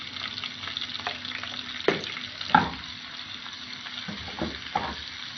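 Steady sizzling and crackling of spices and dried chillies tempering in hot oil, fairly quiet, with occasional louder pops and a few stirring scrapes.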